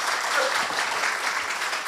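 Audience applause during a study visit to a Thai art museum, a steady wash of clapping from a group that continues evenly throughout, moderately loud and close.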